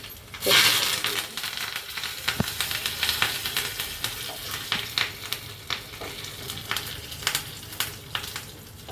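A tempering of hot oil and spices hits cooked dal and sizzles loudly at first, then settles into a steady crackle scattered with small pops. No voices are heard.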